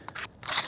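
A Wetterlings Hudson Bay axe blade slices through a sheet of wet paper in a few quick, crisp, scissor-like cuts, close and dry, with no talking.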